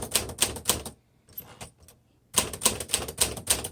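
Keys strike on a 1950 Smith Corona Silent Speedline manual typewriter in close, crisp bursts of clacks, with a short quiet gap of soft mechanical shuffling between two quick runs of typing.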